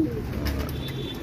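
Racing pigeons arriving at a loft after a 70 km race in Pulilan, Bulacan give a soft, close coo over a low background hum.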